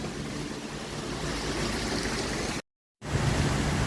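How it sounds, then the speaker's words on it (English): Heavy rain pouring outdoors in Hawaii, a dense steady hiss of water close by with no voices, broken by a brief silent gap near the end. "It is pouring out right now."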